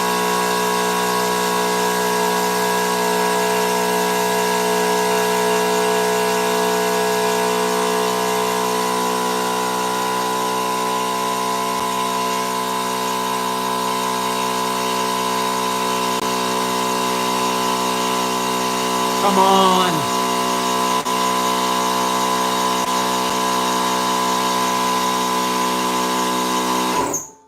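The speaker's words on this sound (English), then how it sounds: "Wait till that air compressor goes off." An air compressor runs steadily and loudly in a blade-sharpening workshop, a constant droning hum with strong harmonics that shuts off abruptly at the end, a brief voice heard near the finish.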